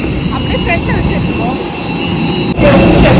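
A loud, steady jet engine roar from an airliner fills the space while boarding, with a low rumble and high whine, and a sudden surge in noise near the end.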